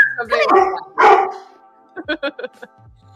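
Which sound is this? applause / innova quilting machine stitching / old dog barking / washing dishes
old dog barking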